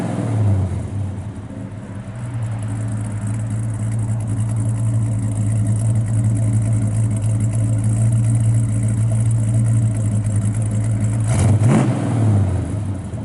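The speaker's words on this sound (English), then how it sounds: "Sounds really good out the exhaust. It's got stock type mufflers and stuff on it, so it's not real loud." A 1972 Chevrolet Chevelle SS with a 454 V8 and stock-type mufflers idles with a steady deep exhaust burble, then blips the throttle near the end for a sharp rev that quickly settles, recorded close with no talk.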